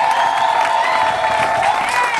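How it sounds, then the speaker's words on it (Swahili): A church congregation applauding in thanks to Jesus during a special repentance service, a dense, sustained burst of clapping with a bright tonal ring running through it. "Mpe Yesu makofi ya shukrani"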